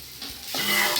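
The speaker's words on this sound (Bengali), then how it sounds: "দেখো একটু নাড়িয়ে চাড়িয়ে নিলাম" Potatoes with spices fry in a pan for a bitter gourd omelette curry, with a brief rising sizzle and a stirring scrape, heard close with no voices.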